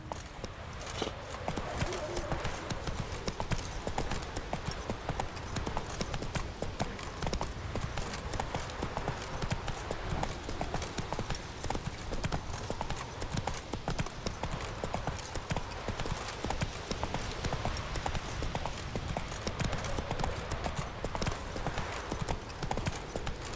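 A horse gallops in The Witcher 3 video game, its quick clip-clop hoofbeats pounding steadily and loudly for the whole stretch, with a voice speaking over it.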